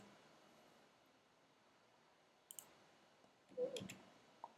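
A computer mouse clicks a few times, sharp and close, while a tracking code is copied, the clicks falling in the last two seconds over faint background hiss, with no talk.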